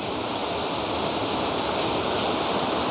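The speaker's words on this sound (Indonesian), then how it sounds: "Mohon maaf hujan ya sayang ya." Rain falls steadily and loudly as a dense, even hiss with no breaks and no voices.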